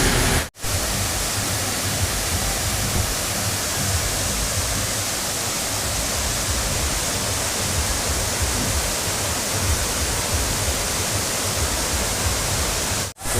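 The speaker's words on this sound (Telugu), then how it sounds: "కానీ ఇది ఒక జలపాతము. చాలా భారీగా అంటే భారీగా పడుతుంది పైనుంచి నీళ్ళు." Heavy waterfall pouring down from a height between hills, a steady, dense, loud roar of rushing water that holds unbroken throughout, with brief dropouts near the start and end and no voices.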